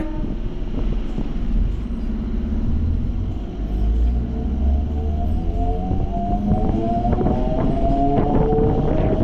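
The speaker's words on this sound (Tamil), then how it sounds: "கொரட்டூர்லேருந்தும் இப்போ ட்ரெயின் ஸ்டார்ட் ஆகிடுச்சிங்க" A suburban train departs Korattur station in Chennai, rumbling steadily along the tracks with a low mechanical drone and rising whine as it picks up speed, loud and close throughout.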